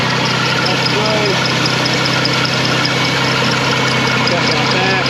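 A 2006 Pontiac Montana engine idles steadily and close by, a constant low rumble with slight vibration, while a person speaks over it.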